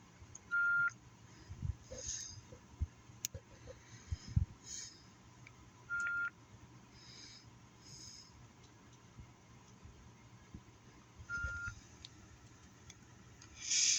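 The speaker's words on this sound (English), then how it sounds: "The beeping is just like, it's very high pitched" Short, high-pitched electronic beeps sound in separate bursts a few seconds apart over a faint low hum, fairly quiet and distant.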